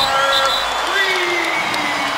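Piped-in artificial crowd noise filling an empty basketball arena during a Celtics game, a steady wash of applause and cheering with scattered whoops, continuous and loud, with commentators talking over it.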